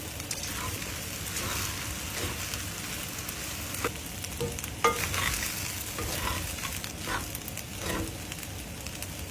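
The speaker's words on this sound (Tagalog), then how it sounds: "Break apart ang kaning lamig and toss to distribute. Isunod ang frozen peas at continue to cook until heated." Cold leftover rice and frozen peas get tossed in a hot pan, a dense continuous sizzle with repeated scraping and tossing strokes of the spatula, steady and close, with no voices.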